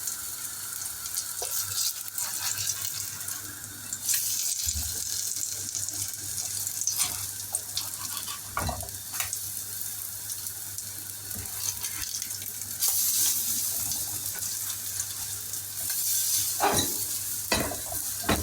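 Zucchini fritters (mücver) fry steadily in a pan, a continuous close sizzle with occasional sharper pops and crackles, running alone without talk.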